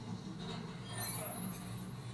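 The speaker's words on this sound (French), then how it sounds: "faut vraiment attendre qu'un métro passe" A subway train in the Spider-Man video game passes by with a sustained rumbling roll and high metallic wheel squeal rising near the middle, steady and fairly close, without talk.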